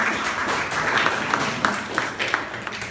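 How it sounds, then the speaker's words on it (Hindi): An audience at a Hindi speaking-skills session gives a contestant named Rohan a round of applause, a steady wash of clapping with a few sharper claps standing out near the end, no speech over it. "जोरदार तालियां रोहन के लिए"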